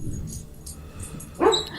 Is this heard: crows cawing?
no